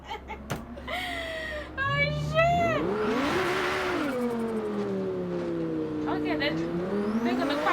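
A turbocharged car in Forza Horizon revs up through rising gear sweeps, with whining engine tones climbing and shifting, a brief tire-squeal burst, and someone talking over the steady acceleration.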